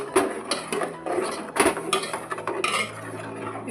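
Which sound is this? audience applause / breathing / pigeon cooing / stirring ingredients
stirring ingredients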